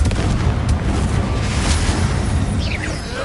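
A Confringo spell explodes in Hogwarts Legacy, a loud sustained booming blast with rumbling, crackling debris, close and continuous for a few seconds and tapering slightly at the end.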